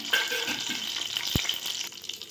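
A short burst of urad dal hitting hot oil in a frying pan, sizzling and crackling close and steady, with a brief scrape partway through.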